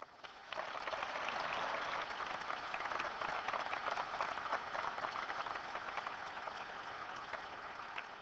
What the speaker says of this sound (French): Je voudrais quand même qu'on vous applaudisse.